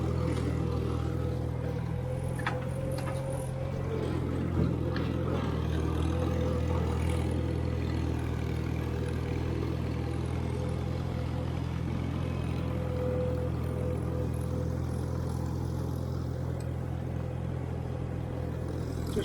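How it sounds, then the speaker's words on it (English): A Farmall 350 tractor engine hums evenly at low pitch throughout, smooth and fairly quiet, with a constant rumble and no revving. "It's a smooth running engine"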